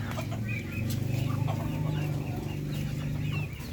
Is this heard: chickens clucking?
yes